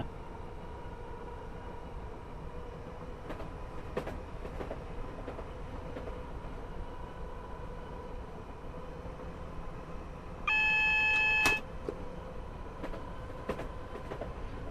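A Class 319 electric train running from London to Brighton in Train Simulator 2016, a steady low rumble with a faint hum and occasional rail clicks, plus a brief high tonal beep near the end, alone without speech.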